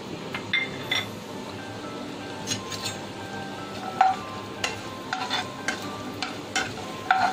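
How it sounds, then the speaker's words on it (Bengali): Chopped coconut fries in white oil over a high flame for a South Indian sambar, a steady soft sizzle broken by the scrape and clink of a stirring utensil against the pan. "গ্যাসটা একটু হাই ফ্লেমে করছি, কারণ এই কুচনো নারকেলটাকে আমি ভাজবো।"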